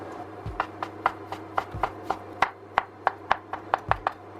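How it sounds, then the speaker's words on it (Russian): A knife chops ham into small cubes on a cutting board, a quick run of sharp, evenly spaced taps with a few heavier thuds, close and clear. "небольшими кубиками режу ветчину"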